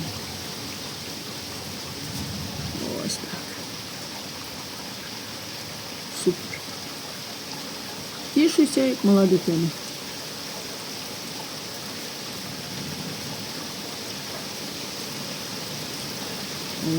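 Steady rain falls outdoors as a dark cloud approaches, a continuous even hiss throughout, with a few brief bursts of a voice speaking and exclaiming over it.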